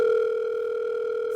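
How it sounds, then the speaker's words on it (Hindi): A telephone signal heard in an Indian talk-show setting, a steady continuous electronic tone at constant pitch that sounds close and clear, more like a sustained dial tone than a pulsed ring, with no voices over it. "सर आपका फोन आ रहा है।"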